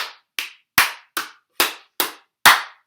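Seven sharp hand claps ring out in a loose, uneven rhythm, each done with scrunched hands to imitate a seal clapping its flippers. The claps are close and fairly loud, and no one speaks.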